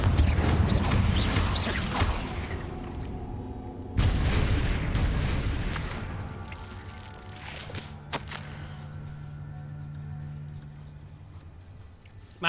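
Fire-blast spell explosions in Hogwarts Legacy, cast inside a cave: heavy booming blasts at the start and again at four seconds, then a sharp burst near eight seconds, each trailing into a rumbling, fading decay.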